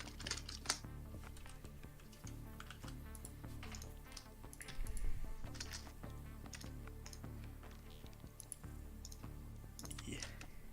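A loud computer keyboard clatters in quick irregular bursts of keystrokes, close by, with a muffled low thump partway through and faint background sound under the clicking.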